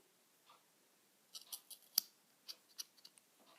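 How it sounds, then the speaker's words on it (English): Small scissors snip through the arm of a Kinder Egg Minion figure, a quiet run of sharp clicks: one faint cut, then a cluster of about ten crisp snips close up with no talking. "I'm going to trim off the arm."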